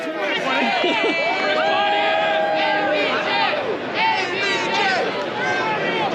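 A large wrestling crowd on South Street chants a name, loud rhythmic massed voices rising and falling continuously, with excited shouts mixed in.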